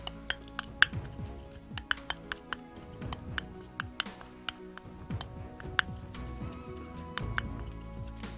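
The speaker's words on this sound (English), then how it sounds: "So I'm going to start mixing it." Spoon mixing a homemade body polish cream of Vaseline and oil in a bowl, with sharp scattered clinks and soft scraping taps over a low background hum.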